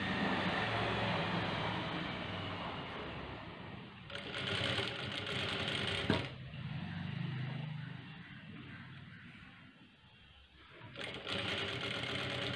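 An electric sewing machine stitches a blouse sleeve in quick bursts, its fast whirring motor running near and steady, pausing briefly and restarting as fabric is guided through.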